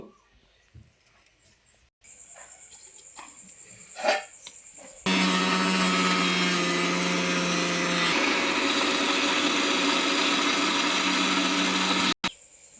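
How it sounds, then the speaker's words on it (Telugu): A kitchen mixer grinder blends cucumber pieces in its jar: after some quiet handling sounds, the motor starts abruptly, runs loud and steady with a slight shift in pitch partway through, then cuts off sharply. "ఇదిగోండి ఇలా మెత్తగా గ్రైండ్ చేసుకోవాలి"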